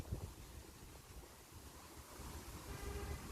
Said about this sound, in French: Oh, le vent, s'il vous plaît, calmez-vous.